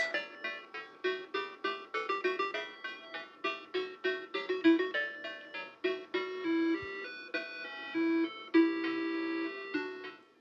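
A Tandy 1000HX computer's internal speaker plays a rapid sequence of bright, beeping electronic tones alone, short staccato notes giving way to a few longer held pitches.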